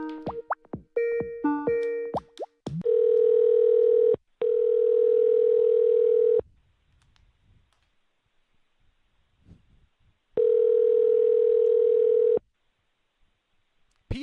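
A telephone handset plays a rapid sequence of keypad dial tones, then a steady ringback tone sounds in two long bursts separated by silence, close and clear with no talking.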